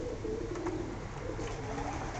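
Performing pigeons coo in a soft, steady, continuous murmur of low throaty calls, close by and with no talking.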